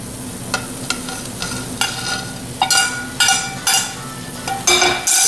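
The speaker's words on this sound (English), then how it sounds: "Just stir this thing around for a little bit and let it just simmer." Sausage pieces stirred into a pot of simmering onion, celery and pepper trinity for red beans and rice, with a low steady simmer under a run of spoon scrapes that grow louder and more frequent toward the end.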